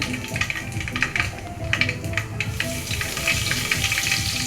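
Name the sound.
spices and fennel sautéing in pan for tomato rice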